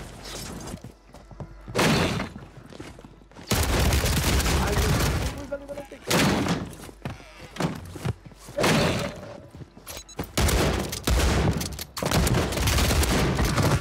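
An LMG in a video game rattles off long, loud bursts of rapid automatic fire, broken by short pauses, while someone shouts excitedly in between and over the shots.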